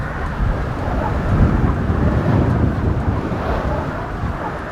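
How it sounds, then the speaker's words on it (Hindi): Strong, steady wind roars across a bridge in Grand Theft Auto V, a dense broadband rush that swells slightly in the middle and continues without a break, with no voices over it. "हवा चल रही है काफी तेज।"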